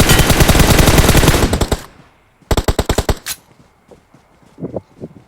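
Automatic gunfire in a shooter video game rattles in two rapid, loud bursts separated by a short pause, followed by scattered fainter shots and movement sounds.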